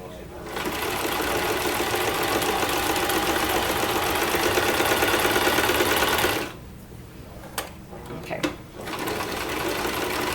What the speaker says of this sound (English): when you sew around a curve there, I'll show you when I get down here again